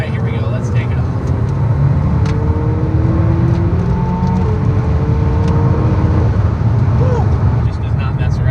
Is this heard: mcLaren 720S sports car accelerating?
yes